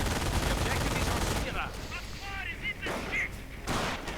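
Gunfire from a World War II real-time strategy match, with rifle and machine gun bursts and explosions crackling densely in the first second and a half, then sparser shots under a commentator's voice.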